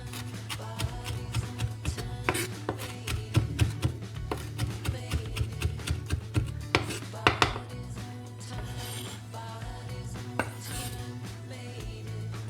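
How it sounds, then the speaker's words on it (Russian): A small bunch of parsley is finely chopped with a knife on a board for chicken cutlets, giving rapid, steady close taps and clicks with a faint hum underneath. "В котлеты нам еще понадобится небольшой пучок петрушки, я его нарежу мелко."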